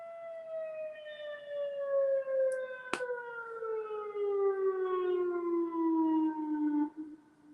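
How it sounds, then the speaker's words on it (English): An outdoor civil defense siren sounds during a local test, a loud sustained wail that slowly slides downward in pitch over several seconds before cutting off, with a brief sharp click partway through. "local siren test"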